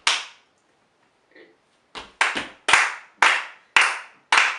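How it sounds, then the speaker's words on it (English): Body percussion rhythm: foot stomps on the downbeat alternate with hand claps on the offbeat. After a quiet start, a series of sharp, close, evenly spaced hits sounds alone with no talking. "you're going to stomp on the downbeat and clap on the offbeat"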